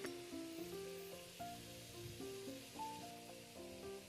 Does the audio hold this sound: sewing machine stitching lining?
no